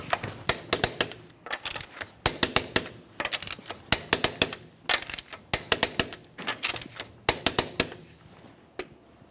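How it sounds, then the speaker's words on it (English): A torque wrench tightens the wheel lug nuts on a 2012-2015 Honda Civic to 80 foot-pounds in a crisscross pattern. Close, sharp metallic clicks and clinks come in quick irregular clusters with brief pauses between them. "we'll be torquing these to that 80 foot-pounds in a crisscross manner."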